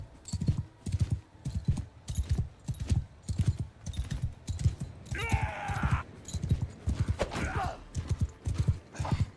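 Hooves clip-clop in a steady galloping rhythm from a horse ridden in Mount & Blade II: Bannerlord, loud and close throughout, with a couple of brief bursts of higher noise partway through.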